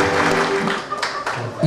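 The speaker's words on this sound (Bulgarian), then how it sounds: "Сега искам под вашите силни аплодисменти да посрещнем младото семейство Гергана и Божидар Петкови." Wedding guests applauding to welcome the newlyweds, a loud, continuous wash of clapping with a voice and some faint tones mixed in.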